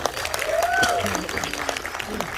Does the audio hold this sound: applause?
yes